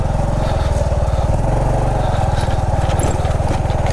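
Off-road motorcycle engine climbing a muddy trail mixed with rocks in the cold, foggy Sierra Madre mountains, a loud, steady close-up throb with rapid regular firing pulses that holds throughout without pause.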